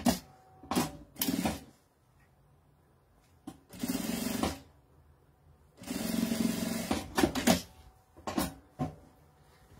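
A sewing machine stitches folded bias tape onto fabric in several bursts: short clattering runs early on, then two longer steady stretches of mechanical whirring, with quiet pauses between, close and fairly loud, no talking.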